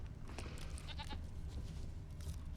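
A goat bleats faintly a few times in The Witcher 3, short wavering cries set over a low ambient rumble of the game world, distant and quiet.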